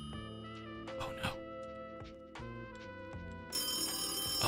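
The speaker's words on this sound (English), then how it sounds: "No, not the phone." A telephone rings in a video game, a bright repeating electronic ringtone in steady bursts, loud and close, with a harsher tone surging in near the end.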